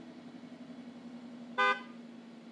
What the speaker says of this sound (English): set your brake, and honk your horn to signify you're done with your maneuver